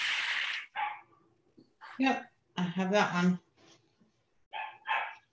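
A puppy yips and barks in short, sharp bursts at close range, several scattered barks mixed with a person speaking in between.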